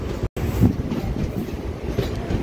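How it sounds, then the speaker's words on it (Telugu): A passenger train pulls out of Namburu station, its steady rumble and rolling wheel noise carrying close and continuous throughout, with one brief dropout near the start. "సో నంబూరు నుంచి మన ట్రైన్ అయితే బయలుదేరిపోతుంది."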